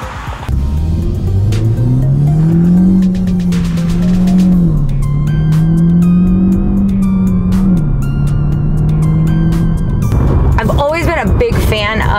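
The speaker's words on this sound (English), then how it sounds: "So I'm now driving the 2017 Honda Civic Si." A 2017 Honda Civic Si driven in sport mode, its engine drone loud and close in the cabin, rising and falling in pitch as it accelerates and shifts, then easing off near the end.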